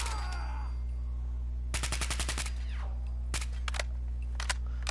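Automatic Service Rifle fired in Fallout 4, with a rapid burst of about ten sharp shots followed by several shorter separated bursts and single cracks over a low steady background hum.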